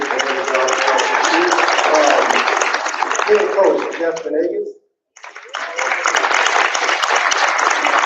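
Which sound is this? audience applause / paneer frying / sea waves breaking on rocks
audience applause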